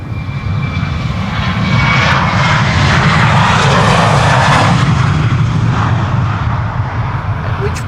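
A departing airliner roars steadily on the Polderbaan runway 36L at Amsterdam Schiphol, a loud, broad continuous engine rumble that swells and holds for several seconds, with faint talk mixed in.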